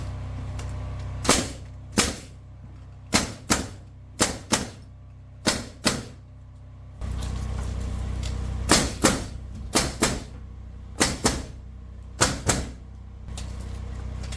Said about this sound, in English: Nail gun. I'm gonna need nails.